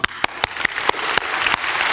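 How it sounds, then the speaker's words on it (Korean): A Korean church congregation claps during a Sunday service. It starts with several loud, separate claps in a quick rhythm, then builds into dense, continuous applause. "우리 하나님께 박수"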